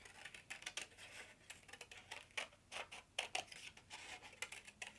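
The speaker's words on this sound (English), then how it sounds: "I'm going to take my scissors and just kind of cut a rough scallop out of it" Quiet, repeated crisp snips of scissors cutting a rough scallop shape out of paper, coming in quick uneven bursts close by.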